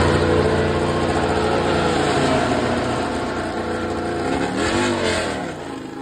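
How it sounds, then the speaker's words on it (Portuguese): MotoGP motorcycle engines roar loudly and continuously at the Sepang circuit during testing, their pitch rising and dipping as the bikes rev and pass. "Sempre bom ver os roncos das motos em ação"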